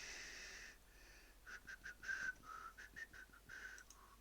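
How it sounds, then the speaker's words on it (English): A person whistles the He-Man theme tune, a bright melodic run of short and held notes in a lively rhythm, close and alone without talking. "I don't know why I'm whistling the He-Man theme tune."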